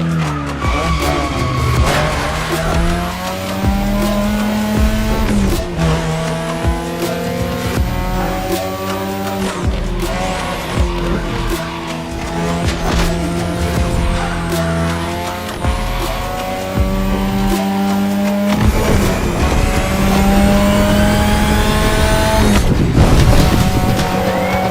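A race car in The Crew Motorfest revs hard and skids with long tire squeals, loud and continuous, engine pitch climbing and dropping through gear changes with no talk over it.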